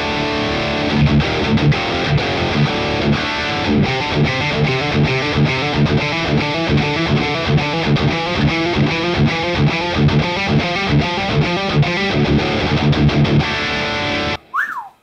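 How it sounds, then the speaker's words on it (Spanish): Electric guitar with heavy distortion played through a digital amplifier, a loud, continuous, rhythmic riff of chugging distorted chords that cuts off abruptly at the end. "Particularmente la distorsión de este amplificador a mí en lo personal me encanta."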